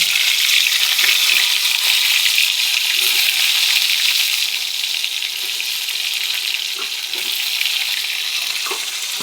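Stuffed eggplant frying in hot oil, a dense, continuous sizzle with crackling spits and occasional soft stirring knocks, close and loud with no talk.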